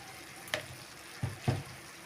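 Red amaranth spinach fries in a pan with a faint sizzle while a spoon stirs it, giving a few soft scraping strokes, quiet and close with no talk.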